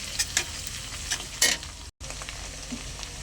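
Ginger garlic paste stirred while frying with chopped onions in a pan for a mixed-vegetable bori dish, a soft sizzle broken by several brisk spatula scrapes, close up with a brief dropout midway.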